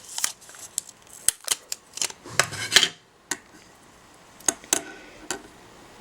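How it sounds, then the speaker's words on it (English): A small piece of Scotch tape is torn off a roll while a crochet-thread lifeline is prepared for knitting, giving a series of sharp, close crackling rips and short ticking snaps separated by brief pauses. "Take a little piece of Scotch tape"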